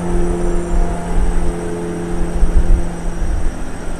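A steady, low Caterpillar diesel truck engine drone in American Truck Simulator hums continuously, with slight swells in intensity and no talking over it.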